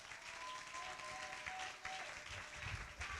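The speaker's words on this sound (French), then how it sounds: "Acclamons Jésus le roi du roi" Congregation clapping in a French-language church service, a steady wash of applause that swells near the end, with a faint sustained tone running underneath.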